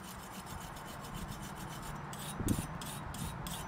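Close, quiet scratching and rubbing on an aluminum surface to strip oxidation, a steady rasp with a few rhythmic strokes and one slightly louder scrape, no voices.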